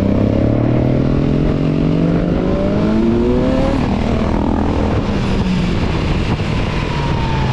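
A loud engine drones steadily with its pitch rising as it accelerates, like a motorcycle passing close by with constant rumbling noise.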